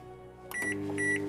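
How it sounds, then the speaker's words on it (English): A microwave oven starts up to heat cauliflower cheese: a door clunk and button beeps, then a steady electric hum with a high whine settles in close by. "We're just going to whack it straight in the microwave."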